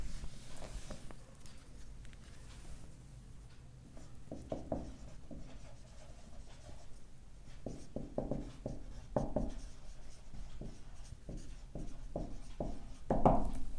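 Writing on a board during a numerical methods lecture on interpolation, as a forward difference table is drawn out: steady scratchy strokes and taps come in irregular bursts, close and fairly quiet, with no talking.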